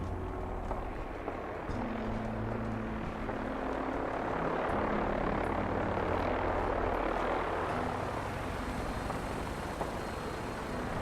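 In the Fallout 4 video game, a Brotherhood of Steel aircraft approaches with a continuous rotor-like whir and engine drone that swells louder toward the middle and then eases off slightly.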